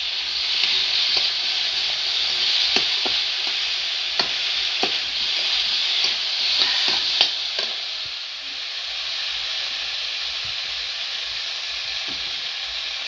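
Fish slides into simmering curry gravy for a Bengali macher jhol. A steady, loud sizzling hiss carries scattered pops and splutters, then settles into a quieter simmer partway through.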